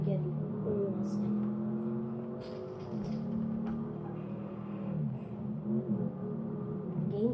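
A car engine in GTA 5 Online hums and revs at a moderate level while two people talk over it, the motor tone rising and falling unevenly.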